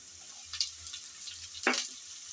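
Onion, garlic and potatoes sizzle quietly in a pan, with a soft, steady frying hiss and a couple of brief stirring scrapes.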